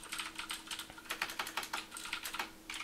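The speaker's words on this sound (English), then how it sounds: "So if you can hear that, the click, like that, that's when the actual key is registered." Das Keyboard Ultimate mechanical keyboard clicking under steady typing, a close, crisp stream of rapid key clicks in uneven bursts with no talking.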